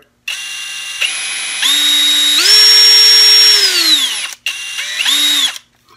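A 20-volt cordless hammer drill with a variable speed trigger whirs loudly in several bursts, revving up and down in pitch as the trigger is squeezed and released, with a brief pause between runs.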